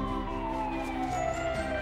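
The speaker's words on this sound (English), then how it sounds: "A fire truck! Let's go see!" A cartoon fire truck siren wails in a steady, continuous tone with a slowly sliding pitch, fairly loud and alone, lasting under two seconds.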